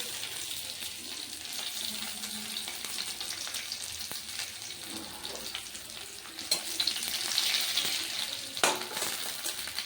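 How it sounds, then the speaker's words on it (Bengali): Bay leaf, cumin, whole garam masala and chopped garlic crackle in hot oil, a close hissing sizzle that swells louder in the second half, with a few faint clinks of utensils. "তেল গরম হয়ে গেছে। তেজপাতা ফোড়ন দিয়ে দেব, জিরে, গোটা গরম মশলা দিয়েছি, রসুন কুচিগুলো দিয়ে দেবো।"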